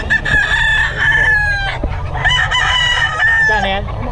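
Gamecock roosters at a fighting-cock seller's in the early morning crow loudly and close, two long drawn-out crows with clucking and other birds beneath.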